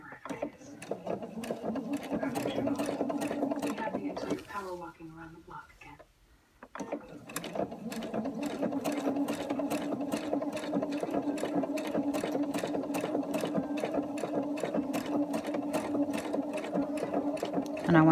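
Sewing machine stitching an embroidered Halloween star, a fast steady rattle of needle strokes that pauses briefly midway and then resumes at a brisk even rhythm, with a voice speaking faintly now and then.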